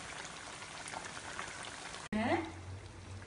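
Banana fritters (pazhampori) frying in oil give a dense, bubbling sizzle for about two seconds before an abrupt cut, after which a voice speaks over a quieter background.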